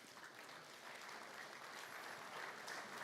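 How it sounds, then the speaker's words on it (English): Sustained applause fills a large hall at the Nigeria International Energy Summit plenary session, a dense, steady wash of clapping from a big audience that holds even and fairly distant throughout, with no voices standing out. "I would think that NIES deserves a round of applause"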